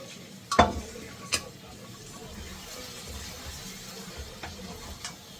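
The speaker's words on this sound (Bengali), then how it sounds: "মটনটা মাংসের মশলাটা ভালো করে কষিয়ে এখন দিয়ে দিলাম হচ্ছে মটনটা" Mutton fries in a spice masala in a pan, giving a soft, steady sizzle, with a loud metal clank early on, a couple more sharp knocks and light stirring scrapes.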